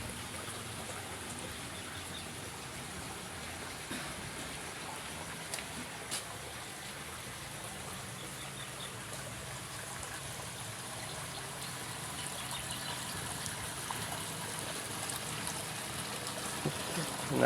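Water flows steadily into a catfish pond outdoors, a continuous close rushing and trickling wash that holds for the whole stretch with no talking.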